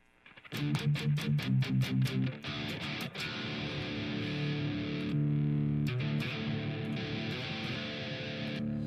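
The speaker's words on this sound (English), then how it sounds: "so that distortion pedal is actually giving us most of our presence and most of that mid-scoop sound" Distorted electric guitar riff through a DS-1 distortion pedal, loud and close: a run of rhythmic chugged chords, then sustained gritty strummed chords ringing out, with a mid-scooped tone.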